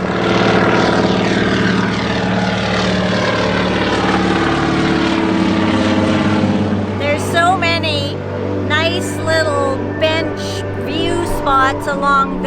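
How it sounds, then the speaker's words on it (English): Propeller airplanes flying in to land at YVR airport beside the Fraser River, a steady droning engine roar that holds loud throughout while people talk over it in the second half. "film all these planes coming in"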